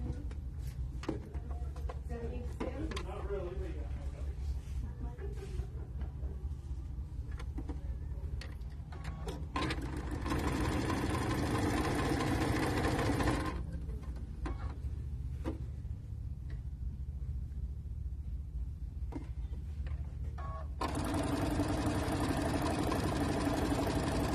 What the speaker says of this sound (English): I'm going to go ahead and sew these together